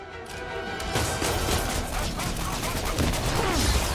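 Enemy gunfire in Marvel's Spider-Man: a dense, crackling fusillade of shots blended with impacts and crashes, loud and continuous for a few seconds.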